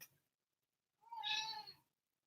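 A single drawn-out cat meow rises clearly out of a quiet room after a brief soft noise, close and moderately loud, with no talking over it.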